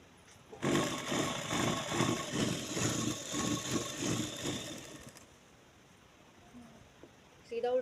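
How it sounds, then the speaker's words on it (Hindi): A sewing machine stitches a narrow folded hem on a baby's jhabla in a boutique, running in a fast, rhythmic, close chatter for several seconds before stopping, with quiet room noise and a brief sound at the end. "यहाँ से इसको सिल लेंगे थोड़ा सा मोड़ के।"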